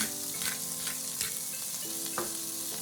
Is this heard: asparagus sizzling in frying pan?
yes